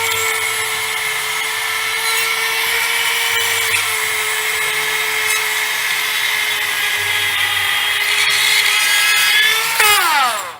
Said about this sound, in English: And then I'm going to grab my RotoZip tool.